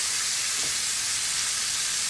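Shrimp pan-frying for pepper shrimp: a steady, close sizzle with a broad hiss throughout and a brief stir sound early on.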